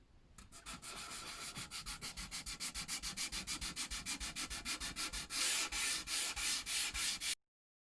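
Close, rhythmic hand sanding with 400 grit paper wrapped on a small cork block scrapes back and forth over a wooden keepsake box, with steady, evenly spaced strokes that grow slightly louder before stopping.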